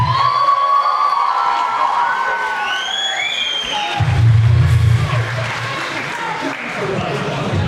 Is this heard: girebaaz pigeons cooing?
no